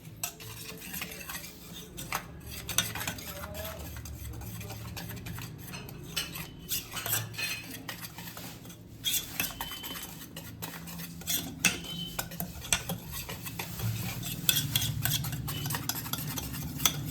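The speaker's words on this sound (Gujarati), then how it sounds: "હવે આપણે આમાં ચણાનો લોટ ઉમેરી દઈશું." Gram flour batter for Gujarati Surti khaman being stirred in a bowl, a soft continuous mixing with light clinks of a spoon against the vessel, fairly quiet and close.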